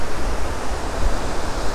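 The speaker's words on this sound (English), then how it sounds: "the waterfalls." Steady rushing roar of the waterfall at Cauldron Snout in the North Pennines, a dense continuous wash of falling water filling the whole clip at close range, with no voices.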